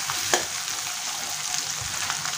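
Tomatoes fry in a pan for paneer bhurji, giving a steady close sizzle with a few faint scrapes of a spoon and no talk.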